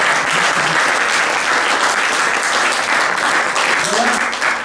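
A room full of people at a French public-speaking club evening applauds, loud continuous clapping held close and steady the whole time, with a faint voice near the end.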